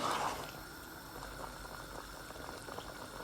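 Tilapia fish curry with tamarind simmers covered in a pot over a slow flame, a soft continuous bubbling hiss that stays faint and steady throughout.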